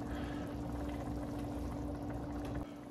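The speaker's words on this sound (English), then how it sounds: "you need to have a kettle next to where you're cooking, so you can transfer hot water into" Hot water from a kettle pours steadily into a bowl of simmering bolognese sauce, a continuous close splashing stream that stops abruptly near the end.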